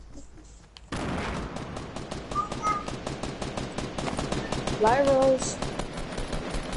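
Rapid automatic assault-rifle fire, a SCAR in a Battlefront shooter match, rattles in dense bursts after a brief quiet start, continuing steadily with sporadic louder cracks while a player talks over it.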